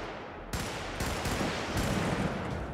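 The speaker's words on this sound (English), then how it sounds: "Let's get onto the machine gun." A mounted machine gun in Helldivers fires in a dense, continuous burst, loud and close, with a few sharper surges in the barrage and no voices over it.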